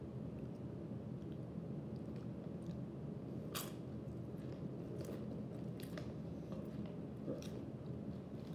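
Lay's fish-flavored potato chips are chewed close to the mic, giving sharp, scattered crunches at irregular moments over a steady background hiss.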